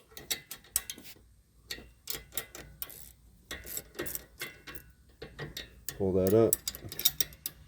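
A ratchet wrench clicks in rapid, close bursts while snugging a bolt on a Rough Country N3 steering stabilizer fitted to a 2017 Jeep Wrangler, with a short spoken remark partway through.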